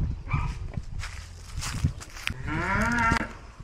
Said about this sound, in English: try to feed these cows